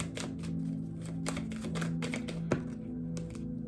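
Tarot cards are shuffled by hand in a rapid run of crisp riffling taps and soft thumps, close and steady, with one sharper knock partway through.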